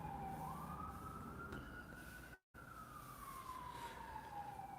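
Emergency vehicle sirens wail in the distance, a steady rising and falling tone sweeping over background noise, briefly cut out midway.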